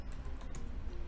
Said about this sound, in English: I'll check whether the device has been connected properly by typing fastboot